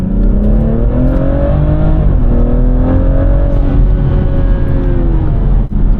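A 2019 BMW 440i Gran Coupe accelerates hard from second gear, its engine note climbing steadily through a gearshift and rising again, loud and close from inside the cabin.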